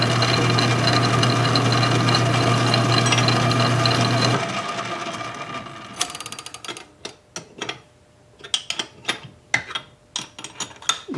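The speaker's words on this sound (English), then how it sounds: "Like I said, it's just going to make a little center hole." A metal lathe drills a small center hole on a homemade water-cooled Briggs engine part. A loud, steady whirring machine drone runs for about four seconds, then gives way to scattered sharp metallic clicks and clanks.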